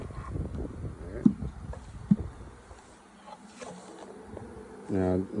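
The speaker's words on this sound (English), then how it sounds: "It's got a lot of bees on it, does it?" Bees hum around a frame lifted from a beehive, a low steady buzzing close by, with a couple of sharp knocks and brief talk.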